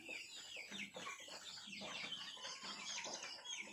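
Chickens cluck and chatter in a busy, overlapping flurry, with faint bird calls mixed in at a quiet, steady level.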